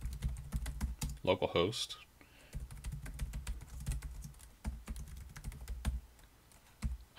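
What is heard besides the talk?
typing on a computer keyboard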